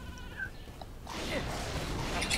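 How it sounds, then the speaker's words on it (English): Sheep bleating in the Skylanders Giants video game, a short bleat early on followed by a louder burst of game sound effects and bleats toward the end, fairly steady level throughout. "Let's fry some sheep."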